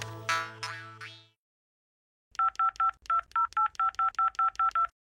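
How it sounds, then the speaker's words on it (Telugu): A telephone keypad sends about a dozen quick, evenly spaced dialing beeps, clear and close, after a brief ringing tone that fades into silence. "ఫోన్ కలుపు"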